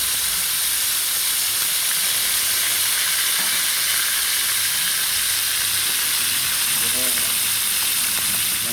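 Fish fillets frying in hot coconut oil, a steady, dense sizzle and hiss that holds close and loud throughout, with a few faint pops rising out of it.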